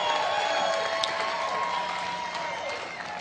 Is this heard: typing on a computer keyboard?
no